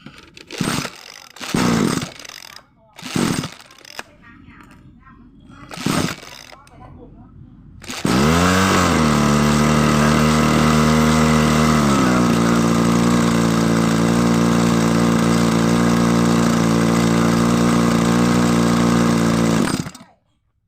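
A small two-stroke engine on a pesticide sprayer, under repair for a spark plug that would not fire, gets a few sharp pull-start tugs, then catches and runs loudly with a rising rev before settling into a steady high buzzing idle until cut off.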